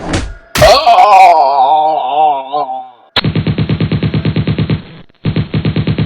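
A groaning cry gives way to loud, rapid bursts of gunfire, two rattling volleys of machine-gun shots separated by a brief pause.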